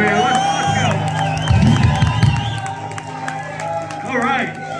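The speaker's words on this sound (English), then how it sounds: "another round of applause for Jacob on the sacks over here." Crowd at a live rock concert in a small Toronto club cheers and whoops with scattered clapping, loud and lively, mixed with shouted voices and some low stage rumble.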